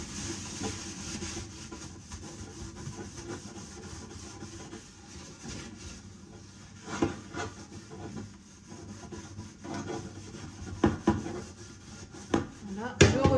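A wet sponge rubs steadily across a kitchen surface, a soft continuous scrubbing close to the microphone with occasional knocks and clatters.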